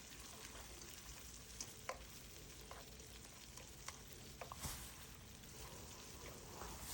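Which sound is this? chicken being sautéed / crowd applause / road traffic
chicken being sautéed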